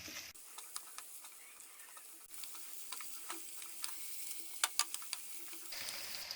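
Tofu with black pepper and salt stir-frying in a pan, a soft continuous sizzle broken by scattered light clicks and taps of stirring, close and quiet with no talk.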